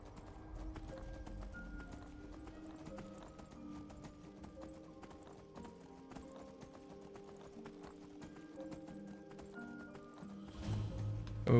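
Horse galloping in Skyrim, a steady run of clip-clop hoofbeats over continuous game music, with a louder rush of sound at the very end.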